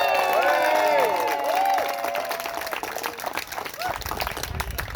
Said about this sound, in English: Give him an applause.